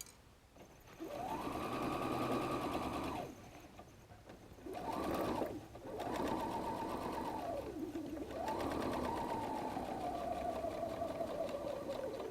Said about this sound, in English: I'm going to start sewing down the other side of the seam